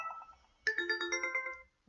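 A phone ringtone plays a faint electronic melody of quick repeated tones that cuts in suddenly, rings for about a second and then stops, with no talking over it.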